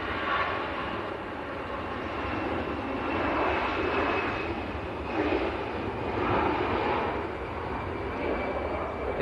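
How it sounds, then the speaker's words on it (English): An EasyJet Airbus A320 bound for Marrakesh roars steadily at an airport, a broad jet-engine rumble with whooshing swells and wind buffeting, loud and sustained with no talk. "This is EasyJet to Marrakesh down in Morocco. Airbus A320."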